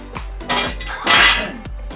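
A metal cover on a John Deere zero-turn mower deck is lifted out of place, giving a few close metallic clanks and rattles with a louder scraping clatter in the middle, and no talking.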